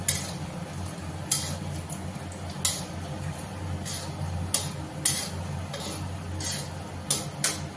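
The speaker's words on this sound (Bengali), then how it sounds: "একটু নাড়িয়ে নেব।" Whole spices such as bay leaf, dried chilli, cinnamon and cardamom are stirred in a pan for paneer gravy, giving faint, irregular scraping clicks of a spoon against metal over a soft background sizzle.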